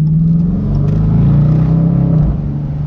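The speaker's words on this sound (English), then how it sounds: "you also hear the exhaust" A Dodge Challenger Hemi V8 engine growls and rises in pitch as it accelerates through a corner, the deep exhaust note loud and close, easing off slightly at the end.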